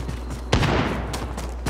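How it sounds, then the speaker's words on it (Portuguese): Gunfire in Call of Duty Warzone: one sharp shot followed by a scattered run of further cracks and pops over a low rumbling background, moderately loud. "Ó, oh, tiro."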